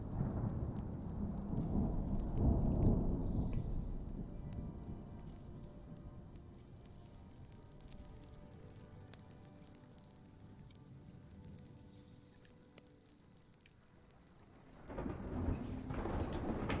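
Rain and thunder in the video game Smalland: Survive the Wilds: a low rolling thunder swell at the start, then steady rainfall, with a second rumble of thunder rising near the end.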